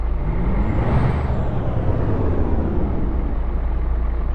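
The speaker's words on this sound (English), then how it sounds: "I thought I heard my turbo just spooling down" In American Truck Simulator, a broad, rushing hiss with a deep engine rumble, a faint high whine rising then falling away, like a truck's turbo spooling down.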